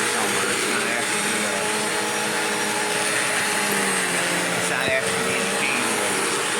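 A Bissell CleanView upright vacuum cleaner runs continuously at close range while cleaning, producing a loud steady roaring whine with a faint tonal hum and a single sharp crack near the end.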